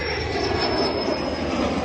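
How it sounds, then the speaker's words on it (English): An airplane taking off nearby, a loud, steady engine roar with a high whine on top, sustained throughout with no talking. "Oh, and an airplane wants to take off."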